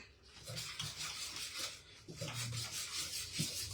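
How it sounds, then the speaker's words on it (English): Two brown eggs being whisked in a bowl, quick scraping, rubbing strokes in an uneven rhythm, close and moderately soft, with no speech. "I'm going to just whisk this up"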